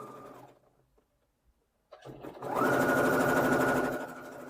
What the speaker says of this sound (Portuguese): agora, no zigue-zague, continuar a costura